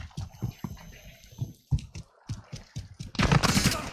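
Rapid shotgun and gun blasts go off in a shooter video game, a run of close, punchy reports at an uneven rhythm, ending in a louder, denser burst.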